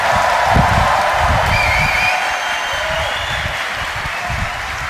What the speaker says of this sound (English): We try it with a really big applause, ladies and gentlemen.